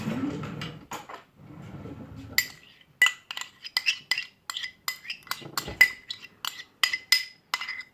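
A spoon clinking against a dish while scooping Greek yogurt in a home kitchen, a series of sharp bright metallic taps and scrapes, close and distinct, coming in irregular bursts after a quieter opening.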